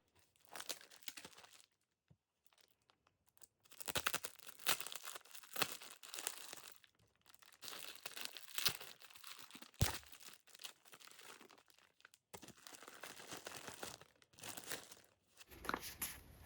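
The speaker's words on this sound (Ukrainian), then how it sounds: "Зараз я хочу відкрити свій великий подвійний подаруночок." A large double gift package is unwrapped up close: bursts of crinkling and tearing paper or plastic come in irregular clusters with short pauses between them.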